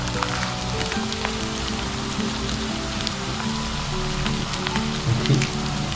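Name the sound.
frying potato pancake in oil in a pan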